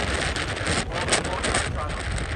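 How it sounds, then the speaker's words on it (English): Strong wind buffets an unshielded microphone outdoors near water, a steady broadband roar with gusty surges throughout, loud and close. "Ooh, it's super windy."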